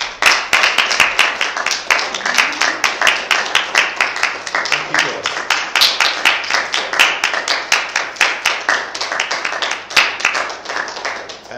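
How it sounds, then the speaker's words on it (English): A standing church congregation at a Holy Communion service claps together in sustained applause, dense and steady throughout, with crowd murmur beneath the sharp hand claps. "let's just give our Father,"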